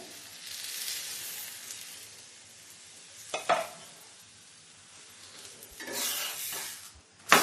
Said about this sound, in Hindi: गैस का फ्लेम हम धीमा रखेंगे और इस तरह से दबाते हुए ये पराठे हम सेक कर तैयार करेंगे